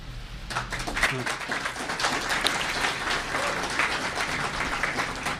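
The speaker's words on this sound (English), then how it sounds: "if we could kind of refrain from applauding and cheering" Audience applause and cheering at a 2015 mayoral debate in Hammond, a steady broad wash of clapping running the whole time, fairly loud, with voices mixed in.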